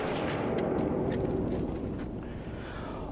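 Barrett .50 caliber semi-automatic sniper rifle firing in a rapid string, heavy booming blasts run together into a loud, continuous rolling roar with reverberating echoes, no voices.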